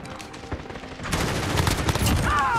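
Rapid gunfire bursts in a Call of Duty Modern Warfare match, sparse at first then dense, loud and crackling with overlapping shots close by, with a brief whine near the end.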